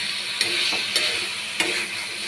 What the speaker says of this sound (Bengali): পনিরগুলো দিয়ে দিলাম, দিয়ে এবার কষিয়ে নিচ্ছি।